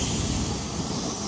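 An express train passing through Bristol Parkway station on the South Wales Main Line, a steady loud rumbling roar with hiss and rail noise filling the whole moment, no voices.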